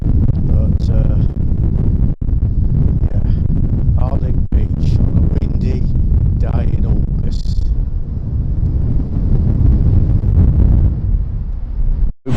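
Strong gusty wind batters the microphone on Harlech Beach, Wales, in a constant loud low roar, with a person speaking intermittently beneath the noise.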